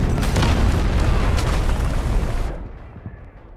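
Heavy artillery barrage in the Delta Force shooter game, a dense rolling wall of booming explosions that stays loud for over two seconds, then cuts off to a quieter rumble with scattered distant pops.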